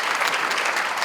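An audience at an education forum in Osan applauds loudly to welcome a speaker, with a brief burst of dense, even clapping and no voices.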